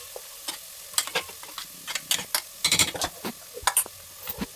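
Masala sizzling in hot oil for a mutton sukka, stirred with a series of sharp scraping, clattering strokes over a steady frying hiss, close and fairly loud, no talk.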